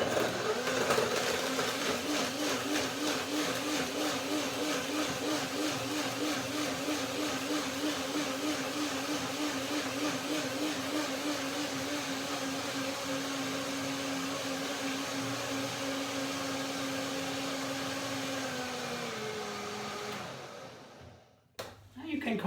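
A blender runs steadily for about twenty seconds, mixing yogurt with mangoes, dates and lemon into a mango lassi, its loud motor whirring with a slight wavering pulse before winding down and stopping.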